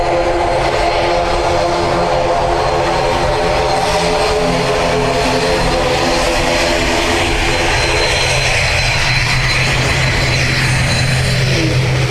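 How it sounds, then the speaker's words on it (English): An ATR turboprop airliner bound for Aberdeen at Dublin Airport hums loudly and steadily, its propeller drone showing layered engine tones with a slowly shifting pitch near the end, no voices present. "This ATR will be off to Aberdeen."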